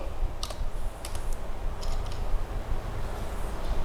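Rapid keyboard typing on a computer while searching for a delay effect in Amplitube 5 guitar software, heard as irregular bursts of close, crisp keystrokes over a steady background hiss, with no talking.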